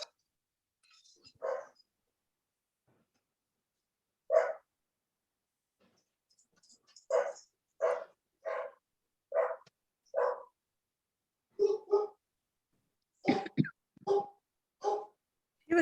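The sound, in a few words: dog barking in the background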